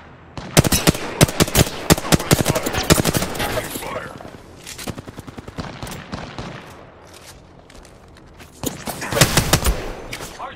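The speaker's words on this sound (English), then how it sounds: "Hostile spotted. I am taking fire, friends." Rapid bursts of automatic gunfire crackle through a video game firefight, loud and close in dense volleys that pause midway, then return in a second heavy burst near the end.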